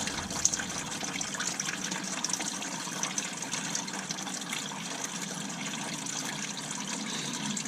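Coolant trickles and drips steadily from the jacked-up engine of a 2006 Subaru Forester during a thermostat replacement, a continuous soft watery patter with no talk.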